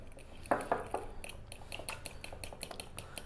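A spoon mixes lemon mayonnaise with black pepper in a bowl, a run of quick light clinking taps against the dish, close and fairly quiet with no talking.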